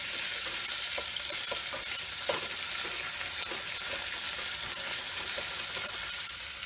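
Onions frying in hot oil with lightly browned garlic, giving a steady, even sizzle up close, with faint occasional taps and scrapes from stirring.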